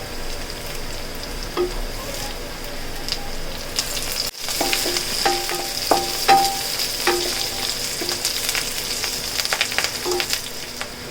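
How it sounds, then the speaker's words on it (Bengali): Onions and curry leaves fry in hot oil in a pan as the base for a goat meat curry, a steady close sizzle with a sudden surge partway through and scattered light clinks from stirring. "এখন পেঁয়াজ দিয়ে দিচ্ছি।"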